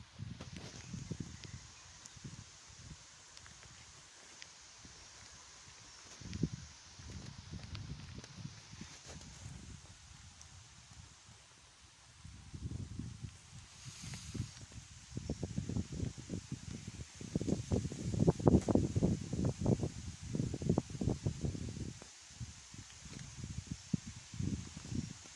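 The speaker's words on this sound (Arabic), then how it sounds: "غادي نسكت شي شويه باش تسمعوا الريح، الاشجار." Outdoors on a morning nature walk, wind stirs through tree leaves as a soft, uneven rustle in gusts that swell louder toward the end, with faint footstep-like thumps and no talking.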